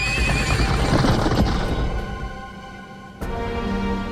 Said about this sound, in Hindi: महाराज, घोड़े तैयार है।